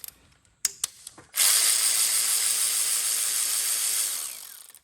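A few sharp metallic clicks and taps come first, then a loud, steady whirring tool runs for about three seconds while working on an 8mm bolt on a 6.0 Powerstroke oil cooler housing, winding down at the end.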